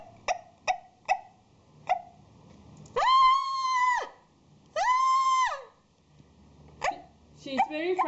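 A dog gives a series of sharp barks early on, followed by two long, tonal howling yelps and a few more barks near the end, fairly close and loud in a chase scene.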